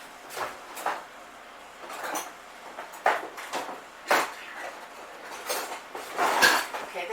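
Kitchen rummaging while fetching a spatula during blondie baking: intermittent clinks of utensils and pans, and soft knocks like a drawer or cupboard, in short separate bursts against a quiet room.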